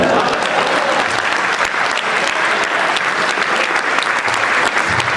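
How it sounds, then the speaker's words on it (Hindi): Audience at a Hindi poetry recital breaking into loud, enthusiastic applause for a line, dense close clapping from many hands that rolls on steadily with a few scattered voices mixed in. "इस पंक्ति पर आपकी तालियां चाहता हूं।"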